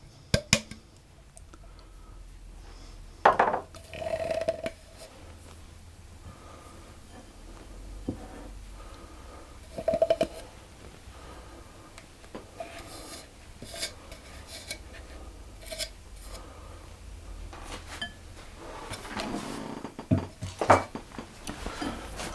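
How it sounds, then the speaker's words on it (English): Cookie dough for pine nut and sesame seed dunkers is tipped from a container into a bowl, with soft thuds, scrapes and a few clinks of dishware. The sounds are scattered, close and fairly quiet, with brief louder knocks. "So I'm just going to get my bowl again and tip that out into the bowl"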